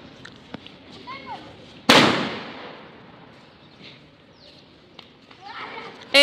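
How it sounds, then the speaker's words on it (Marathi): Diwali firecrackers set off by children outdoors: one loud sharp bang followed by a long fading crackle and rumble, with smaller pops and hissing around it, and people talking throughout. "आणि मामाची मुलं फटाके फोडतात."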